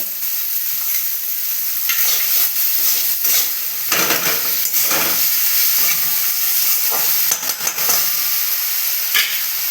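Tomatoes and salt frying in a pan, a loud steady sizzle with hiss and bursts of stirring scrapes throughout, no voices.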